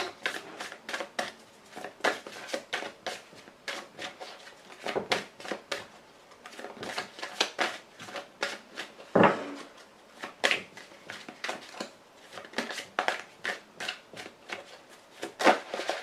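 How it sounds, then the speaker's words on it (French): A deck of playing cards shuffled and handled at close range, with repeated papery riffles and flicks, some soft slaps and one sharper snap partway through, no voices. "Alors, deux prochaines cartes ensuite."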